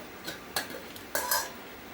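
Curry and rice being served onto a plate at home, with a few soft clinks and scrapes of a spoon against dishes, brief and moderately quiet, no talking.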